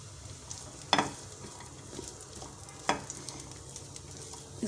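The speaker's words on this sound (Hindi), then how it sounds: "अब मैं इसे फ्राई करूँगी।" Small pieces of water chestnut fry in a spoonful of oil with a soft, low sizzle, cut by two sharp scraping clatters of stirring about two seconds apart.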